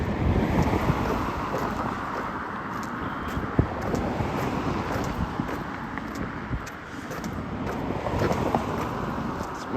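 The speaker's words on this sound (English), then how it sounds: "And that wind's picking up." Steady wind buffeting a moving car, a continuous broad rush of air and microphone wind noise with road rumble, loud and unbroken with no voices.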